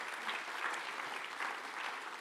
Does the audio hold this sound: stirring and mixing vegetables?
no